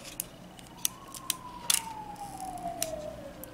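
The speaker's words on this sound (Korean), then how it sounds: "일단 스카치 테이프를 준비를 하셔서요" Clear Scotch tape is pulled out in a long strip for gel nail art, giving a quiet, drawn-out squeaky peel that slowly slides in pitch, with a few faint clicks along the way.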